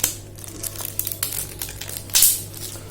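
Plastic wrap crinkles and crackles in short bursts as Evolis Primacy printer cards are packed tightly, close and irregular, ending in a louder rustle, with no talking.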